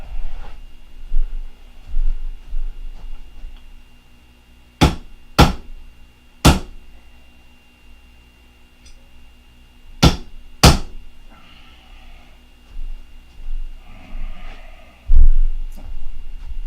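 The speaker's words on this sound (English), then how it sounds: "I'm gonna get a hammer and tap them down in there real good." Hammer tapping parts down into place, several sharp metallic strikes spaced a second or so apart, with two quick pairs, close and loud over a quiet workshop hum.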